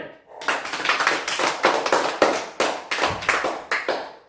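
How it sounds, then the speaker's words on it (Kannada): A group of children clap for the winner of a memory game, starting after a brief pause, first as a quick scattered patter of hands, then settling into loud, rhythmic, unison claps close by. "ಚಪ್ಪಾಳೆ ಜೋರ ಬರಲಿ ಚಪ್ಪಾಳೆ."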